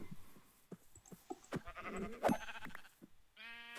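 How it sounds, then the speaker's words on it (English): A series of short Minecraft sheep bleats with clicks and thuds, ending in one longer, nasal baa, moderately quiet. "we need lots of sheep if we're going to do those banners"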